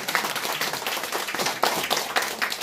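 An audience at a political gathering claps in dense, continuous applause that stays loud and close throughout, with many overlapping hand claps and no clear speech.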